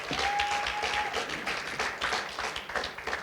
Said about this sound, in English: a round of applause for the amazing organizers that have put this together